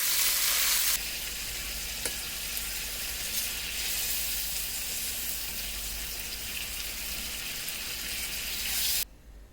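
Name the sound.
prawns frying in a pan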